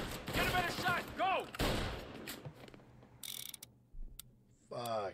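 Gunfire in Mafia Definitive Edition on PS5, with short mechanical bursts and sharp shots in the second half, interleaved with a voice talking at the start and near the end.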